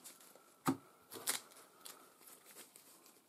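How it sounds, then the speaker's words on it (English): Cards for the board game Imperium riffle-shuffled in two short, quiet bursts close by, followed by faint soft handling sounds in a silent room. "Give that shuffle, place it face down"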